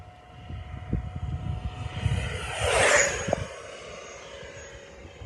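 An 80mm XFly Alpha Jet RC model jet at full power in flight, a whooshing ducted-fan roar that swells as it passes overhead, then fades to a steady distant drone.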